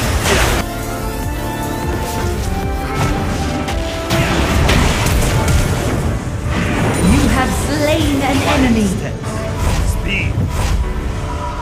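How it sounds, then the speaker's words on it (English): A turret is destroyed in the mobile game League of Legends: Wild Rift, with booming impacts and crashes among busy battle effects, while an announcer voice speaks over the action. "Enemy turret destroyed."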